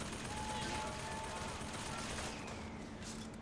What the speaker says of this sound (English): Is that shooting at me?